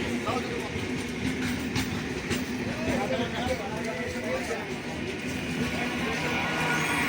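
A train rumbles steadily along the rails with rhythmic clacking and squeal, heard from inside a carriage while people talk over it.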